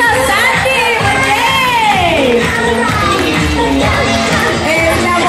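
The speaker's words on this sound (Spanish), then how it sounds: "Pero yo sé que usted quiere aplaudir." A noisy crowd at a kindergarten fashion show cheers and shouts, with children's voices whooping over a dense wash of sound; individual claps are hard to pick out.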